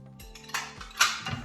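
Two green thrift-store dishes clink and knock together in handling, a few light ceramic taps and a brighter ring near the end, close and quiet with no talk.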